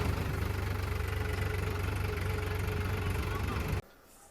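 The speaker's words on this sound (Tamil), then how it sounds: "ஸோ நான் தான் கைஸ் டிராக்டர் ஓட்டிட்டு வந்துட்டுருக்கேன்" Tractor engine running steadily at close range, a loud continuous low rumble with a knocking idle that cuts off abruptly near the end, leaving only faint background noise.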